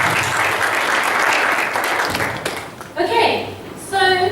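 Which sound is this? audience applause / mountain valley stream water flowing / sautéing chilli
audience applause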